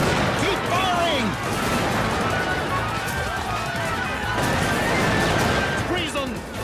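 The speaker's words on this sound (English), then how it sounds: "Keep firing!" Cartoon battle gunfire and cannon fire form a dense, continuous din of shots and blasts throughout, with voices shouting over the noise.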